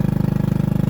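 A small lawnmower engine on a homemade trike runs steadily with a rapid, even chugging pulse, close and moderately loud, with no voices.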